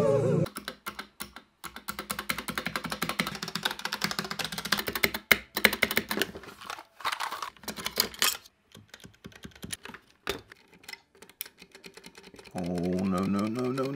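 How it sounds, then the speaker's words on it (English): Rapid typing on a PewDiePie mechanical keyboard with pre-lubed stabilizers, a dense stream of close clicky keystrokes with brief pauses, ending as a voice starts talking. "the PewDiePie keyboard comes with pre-lubed stabilizers"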